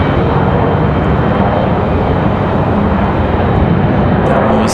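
A Delta Embraer E-175 regional jet on the move at Raleigh-Durham airport, a loud steady engine roar filling the whole moment without pause, dense and close, with a voice faintly present.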